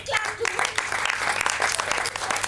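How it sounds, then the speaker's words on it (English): An audience at a children's workshop claps briefly, a short burst of mixed handclaps at moderate distance, with voices murmuring underneath. "Please give her a big clap"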